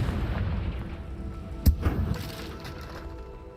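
Confringo fire spell blasting in the Hogwarts Legacy video game: one sharp, loud crack-like burst in the middle, with a short rumbling tail, set over a steady bed of game ambience.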